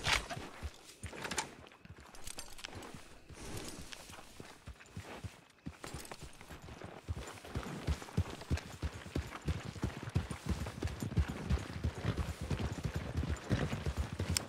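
Rapid hoofbeats of a galloping horse in the video game Red Dead Redemption 2, steady and continuous, growing louder and busier over the second half with no voices.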